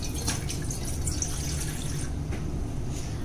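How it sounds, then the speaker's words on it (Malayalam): A glass of water poured into a pan while making a wheat-flour milk cake, giving a short continuous splashing pour heard close up with no voices. "ആ വെള്ളം നമുക്ക് ഈ പാനിക്ക് ഒഴിച്ചു കൊടുക്കാം"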